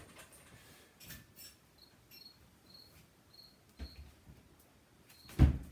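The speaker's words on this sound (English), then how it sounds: "You're gonna hear crickets in my videos for the next 2 weeks until I finally kill this friggin' thing." A cricket chirps indoors in short, faint, repeated bursts spaced through a quiet room, with a louder bump near the end.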